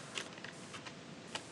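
Quiet clicks from a computer keyboard, with a few separate key taps spread unevenly over a second and a half and a couple of sharper presses standing out.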